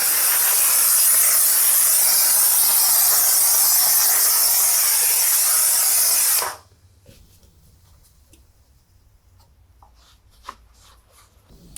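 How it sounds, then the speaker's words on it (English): A steam cleaner blasts a car engine bay during spring cleaning, a loud steady hiss for about six seconds that cuts off abruptly, leaving quiet with faint handling clicks. "In comes the steam."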